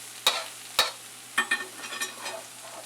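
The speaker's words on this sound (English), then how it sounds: "Let the egg just sit there and start to fry for a minute. Now we're going to stir that all around." An egg frying in a pan for Thai drunken noodles hisses softly while a utensil stirs it, making several sharp, close scraping strokes over the sizzle.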